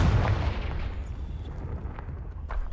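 Confringo fire spells go off in the Hogwarts Legacy video game, making booming blasts: one heavy burst at the start that fades into a lingering rumble, with smaller pops later.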